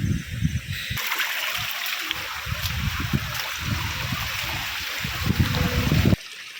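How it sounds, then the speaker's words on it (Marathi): Steady rushing water flows close by over a hiking trail at Korigad Fort near Lonavala during monsoon rain, a continuous broadband wash with some lower gurgles and splashes, briefly cutting off near the end. "त्या संपूर्ण पायवाटेवर पाणी वाहते"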